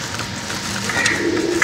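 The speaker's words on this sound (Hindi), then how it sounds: "ये रहे दो कबूतर, एक ये जो शाबदार कबूतर है और दूसरा ये गोल्डन कबूतर" Domestic pigeons, a dark one and a golden one, cooing softly and close by in a loft, with a low steady murmur and a slight rise near the end, no talking.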